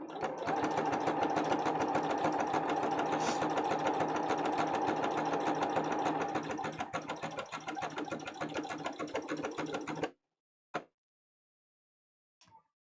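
Close, loud sewing machine sewing fabric for a Diablo Maghda cosplay, whirring continuously for about ten seconds and easing slightly toward the end before cutting off. Two brief isolated clicks follow in otherwise quiet surroundings.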